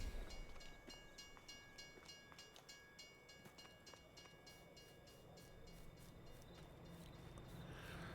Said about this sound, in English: I'll get this train rolling.